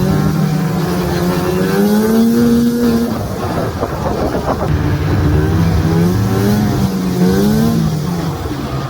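A cheap used snowmobile engine runs loud and close, its pitch rising and falling steadily as it revs, with no talk over it.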